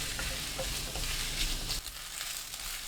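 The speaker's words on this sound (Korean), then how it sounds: "팬에 양파, 어묵, 식용유 한 큰술 넣고 센 불로 2분 30초 볶아주세요." Fish cakes and onion stir-frying in oil over high heat, a steady close sizzle with light scraping of a utensil in the pan throughout the short clip, without speech.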